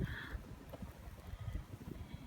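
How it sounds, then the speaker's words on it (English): Wind blows during a snow blizzard outdoors in a driveway. Faint gusts buffet the microphone as low, uneven rumbles. "It's windy."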